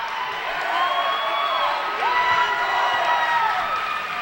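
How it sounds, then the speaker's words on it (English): A basketball crowd at a high school game between the Placer Hillmen and Bear River Bruins cheers loudly after a blocked shot, a sustained roar of shouts and whoops with no clear commentary over it. "Nothing gets the crowd going like a good block"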